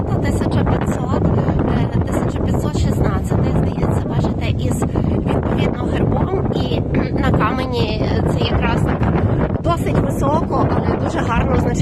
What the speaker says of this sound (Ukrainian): Дуже сильний вітер здійнявся